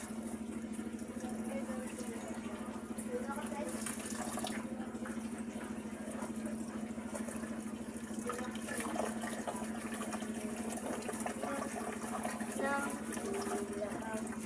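Water sloshes and trickles steadily as rice is rinsed in a container, with a constant low hum and faint clinks in the background.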